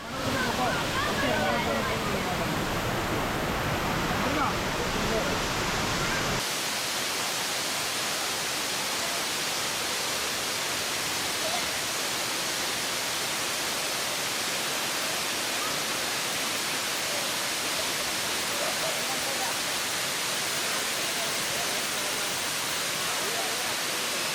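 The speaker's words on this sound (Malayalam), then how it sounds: "വെള്ളച്ചാട്ടം ശക്തിയായി ഒഴുകി വിസ്മയകരമായ കാഴ്ച നൽകുന്നു" Areekal waterfall in monsoon season roars forcefully and without pause, a dense, loud rush that fills the whole stretch.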